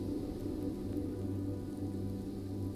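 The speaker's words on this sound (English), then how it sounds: "The thatched roof softens the sound, as if the raindrops fall on a bale of hay." Steady, softened rain falling on a thatched roof, a continuous even patter with a low rumbling body that holds at constant moderate loudness throughout, with no voices.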